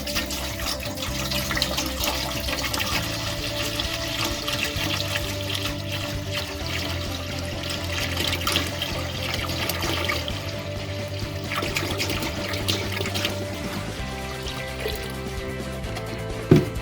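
Steady water running and pouring into a pot, a continuous broadband rush with a slight trickling texture, close and fairly loud, no talking.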